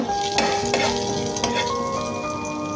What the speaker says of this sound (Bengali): এদিকে আমি কচুটা বাগার দিয়ে দেবো। একটা জিরা দিচ্ছি, 2টা তেজপাতা।